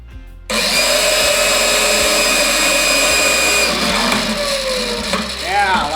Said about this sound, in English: I'd like to be able to hang on to this thing and keep it in the machine as it makes the bends.